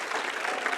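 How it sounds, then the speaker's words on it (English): Audience applause for award recipients at a city council meeting, a steady, dense clapping from a roomful of people, held at an even level for a brief moment. "let's give them a well round of applause"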